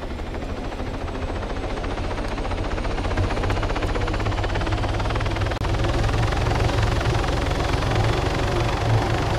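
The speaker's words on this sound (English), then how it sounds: "that guy just jacked a legal helicopter" Steady, loud thumping drone of helicopter rotors and engine in Arma 3, constant throughout with no voices.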